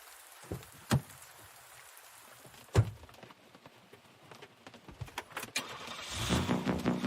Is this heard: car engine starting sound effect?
yes